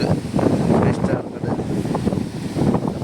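Sea waves surging over the shore and onto the road at Chembirikka, heard as a rolling, continuous wash under heavy wind buffeting the microphone, loud and close, with a voice faintly present.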